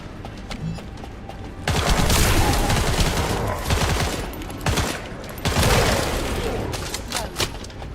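Rapid automatic gunfire from a weapon in the video game The First Descendant, loud sustained bursts with short pauses between them, filling most of the stretch.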